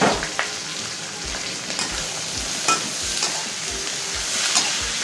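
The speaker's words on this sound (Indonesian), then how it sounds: "Kita tumis dia sampai betul-betul semua bumbu-bumbunya layu ya sobat" Chili, tomato, lemongrass, galangal, salam leaves and ground spices sauté in a hot pan, a dense steady sizzle with repeated soft thuds of stirring and occasional sharp crackles, no voices.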